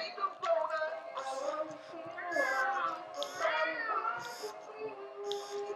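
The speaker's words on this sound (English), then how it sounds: "I don't know if Poofy likes this kitty" A cat meows repeatedly in drawn-out, wavering cries, close by, while a voice talks alongside it.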